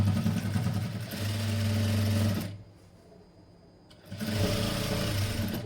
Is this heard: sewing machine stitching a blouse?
yes